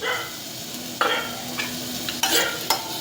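Matar dal and grated paneer stirred in a frying pan, a continuous loud hiss of frying broken by a few sharp spoon scrapes and knocks.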